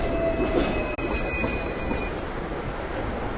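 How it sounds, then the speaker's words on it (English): A city tram rolls past on rails with a loud steady rumble and a thin high wheel squeal near the start, heard close by without talk. "Everybody wants to get on these trams."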